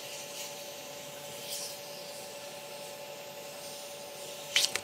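An acrylic resin pen blank is sanded at 1500 grit on a lathe, giving a faint steady hiss and rub against a low motor hum, with a short sharp scrape just before the end.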